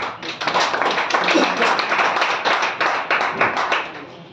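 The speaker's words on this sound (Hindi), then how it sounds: "एक बार जोरदार तालियां बजा दो सर।" An audience at an open business meeting in Hisar claps loudly and enthusiastically, a dense, close burst of hand claps that holds steady for several seconds.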